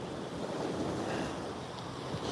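Ocean waves wash steadily onto a Maui shore at first light, a continuous broad roar of surf mixed with light wind noise, close and fairly loud with no voices.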